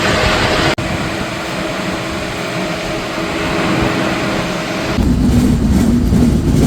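Silk City Express train pulling out of Boral Bridge railway station in rain, a loud continuous rumble and engine drone heard from onboard, growing rougher as the train gathers speed.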